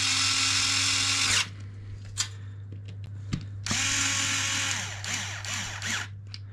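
Small electric driver tightening screws on an airsoft gun, two buzzing whirring bursts separated by a pause with faint clicks and handling noise, close and fairly quiet.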